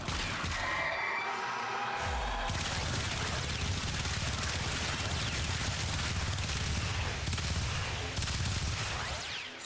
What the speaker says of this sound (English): This is what a secondary acts like with no ability boost.